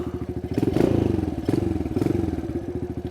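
A Kawasaki KLX 110R dirt bike engine, the clutchless four-speed version, revs up and falls back in short surges, close and fairly loud, with a few thumps and clatter between throttle bursts.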